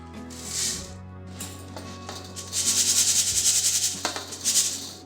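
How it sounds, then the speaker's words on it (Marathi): Dry rice grains being shaken and sifted through a kitchen sieve, a steady rustling, scraping hiss that swells louder toward the end, close by with no talk. "अशा पद्धतीने आपण सर्व तांदूळ गाळून घेऊ"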